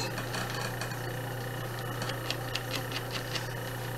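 A sewing machine runs steadily while stitching a zipper, a soft, even mechanical whir with faint rhythmic ticking near the end, close and fairly quiet with no voices.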